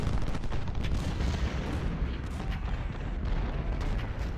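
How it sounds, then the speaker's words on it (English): Sharpshooters fire in Ultimate General: Civil War at the Battle of Stones River, a ragged stream of muffled musket shots and distant artillery thumps rolling on at low volume. "I'm going to get my sharpshooters firing on his artillery."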